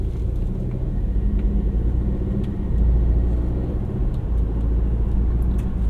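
A 2019 Volvo S90 T5 Momentum sedan drives steadily, its engine and road rumble forming a constant low drone with a slight swell partway through as it shifts gears; no one talks.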